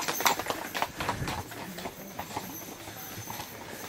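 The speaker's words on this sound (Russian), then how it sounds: "Довольны люди едут на лошади." Horses with riders walk past at a tourist stop, their hooves clip-clopping in a quick uneven rhythm that starts close and loud, then fades into street noise.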